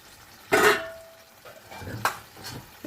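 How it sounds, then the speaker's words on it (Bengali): Fish, likely hilsa, being flipped in a pan with turmeric and spice paste, giving a few brief clattering scrapes and soft sizzling bursts at close range, with quiet stirring noise between them. "এবার মাছগুলোকে একটুখানি মশলার সাথে মিশিয়ে দেওয়ার জন্য উল্টিয়ে দিলাম।"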